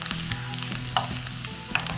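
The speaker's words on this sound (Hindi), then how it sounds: "प्याज और लहसुन आपस में फ्राई हो रहा है" Onion and garlic frying in a pan, a steady close sizzle with clicks and scrapes of stirring, no talk.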